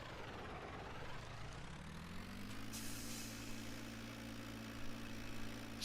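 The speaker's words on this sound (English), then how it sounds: "What I really like about this tractor again is the sound of it." A small tractor engine in Farming Simulator 19 on PS4 idles steadily with a low rumble, its pitch rising slightly as it settles, followed by a brief air brake hiss.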